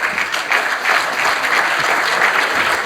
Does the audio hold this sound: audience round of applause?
yes